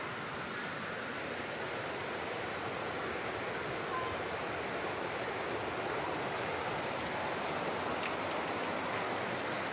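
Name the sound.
shower running water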